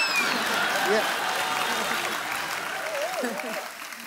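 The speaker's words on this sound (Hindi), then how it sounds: "जोरदार तालियां इन पे वेस्ट करने का जरूरत नहीं है" Studio audience applause on a Hindi comedy talk show set, a steady wash of clapping running throughout at moderate level while a host talks over it.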